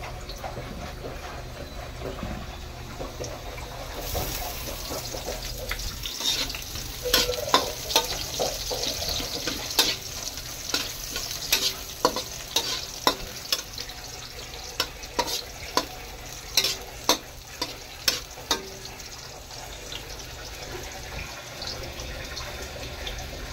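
Garlic frying in a pan for chicken adobo makes a continuous close sizzle, and from about four seconds a utensil scrapes and taps against the pan in a steady stirring rhythm, with no speech.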